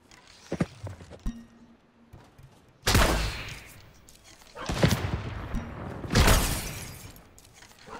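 Three loud, sharp sniper rifle shots ring out in a Fortnite match, each a sudden broadband crack with a decaying tail, spaced roughly every one and a half seconds, with faint clicks and movement noises between them.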